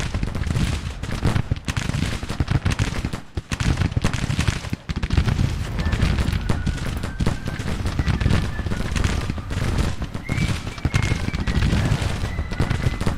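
Musket volleys crackle in dense, continuous rolling fusillades across a Civil War battlefield in the strategy game Grand Tactician, loud and sustained with overlapping pops and bursts.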